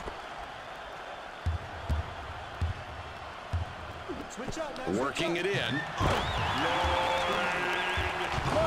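An excited arena crowd roars in the ESPN College Hoops 2K4 basketball video game on Xbox, a steady wall of cheering under commentary, with ball bounces early and the noise swelling louder in the second half.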